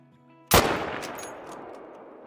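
A single loud rifle shot fired at a stag during a hunt cracks sharply after a brief quiet stretch, then echoes and fades across open country.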